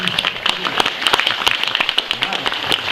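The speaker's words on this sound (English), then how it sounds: "If you just give a little clap, he knows his segment's over." Audience at a live stockmen's show claps after a dog's segment, a scattered crowd patter of hands mixed with voices talking underneath.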